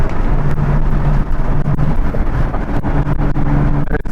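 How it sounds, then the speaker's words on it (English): A loud 2022 Hyundai Elantra N or Kona N engine note on a race track, with rough, rumbling lift-off burbles and sharp popping crackles scattered throughout, sounding close and continuous, with some wind noise. "You get the lift-off pops and burbles,"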